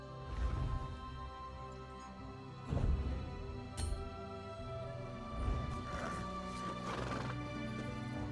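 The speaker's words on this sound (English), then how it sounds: "We raise fine horses in Davons Watch." Horse neighing with hooves clopping on the ground in the video game The Elder Scrolls Online, at the Davons Watch stables; several whinnies rise over a steady clip-clop and a constant background ambience, with no talking.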